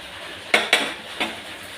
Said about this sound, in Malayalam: ഇനി നമുക്ക് ഇഞ്ചി, വെളുത്തുള്ളി, പച്ചമുളക് പേസ്റ്റ് ഇട്ട് കൊടുക്കാം.